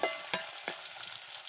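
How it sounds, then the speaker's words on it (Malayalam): Ginger fries in hot oil for a beef curry, a faint continuous sizzle punctuated by two quick scraping strokes of a stirring spoon, close by with no speech. "അത് കഴിഞ്ഞിട്ട് നന്നാക്കി വെച്ച ഇഞ്ചി ഇടുക. എന്നിട്ട് നന്നായിട്ടൊന്ന് ഇളക്കി കൊടുക്കുക."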